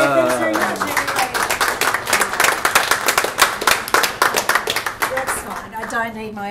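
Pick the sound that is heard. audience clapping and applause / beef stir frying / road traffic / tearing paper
audience clapping and applause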